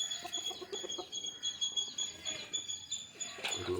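A small flock of country chickens clucks steadily while pecking at bran, with repeated near clucks, high chirps and a busy rustling farmyard backdrop.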